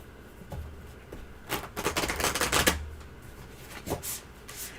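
Tarot cards are shuffled by hand in a quiet room, giving soft riffling bursts and taps that swell into a dense flurry in the middle, then ease off, with no talking.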